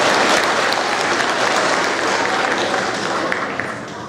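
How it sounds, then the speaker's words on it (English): A large crowd at a 6th grade awards ceremony claps loudly and continuously, the applause tapering slightly toward the end. "let's give them a round of applause."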